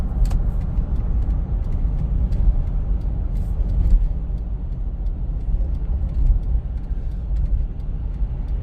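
A Lexus LX470 rolling along with a steady low road and engine rumble inside the cabin, occasional faint clicks and squeaks over the continuous drone as it slows under braking.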